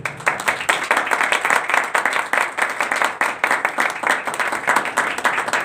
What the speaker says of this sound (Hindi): तो सब खुदावंद के जलाल के लिए जोरदार तालियां बजाएं।